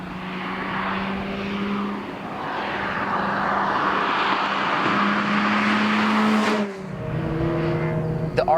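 A Mazda RX8 accelerates with a continuous droning engine note that climbs steadily, breaks off briefly near the end and then picks up again, heard from close by with no talking.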